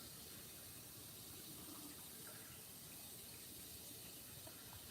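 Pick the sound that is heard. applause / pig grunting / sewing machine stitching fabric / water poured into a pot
water poured into a pot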